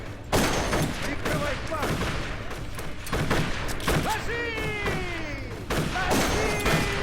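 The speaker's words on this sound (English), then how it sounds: "Every time I actually go there, somebody's shooting me from the side." Gunfire from the video game Darkest of Days crackles in loud, dense bursts throughout, with sharp overlapping shots and whizzing, sliding tones between them.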